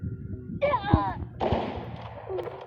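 Gunshots from the Free Fire video game, a few sharp bursts heard close and clear with a voice talking in between.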